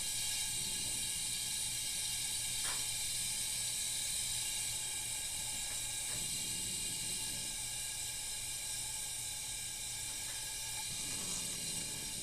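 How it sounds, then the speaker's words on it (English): A 1938 Primus 77 kerosene stove roars with a steady, loud hiss as excess gas in its generator burns off, a continuous broadband rush with a few faint clicks and no voices. "Burning off the excess gas in the generator right now"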